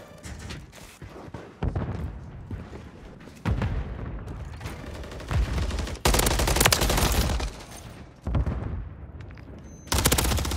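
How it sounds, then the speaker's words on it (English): Heavy gunfire in a video game gun battle, with loud bursts of automatic fire and booming shots arriving in waves, close and intense, with no talking over it. "Holy gun battle."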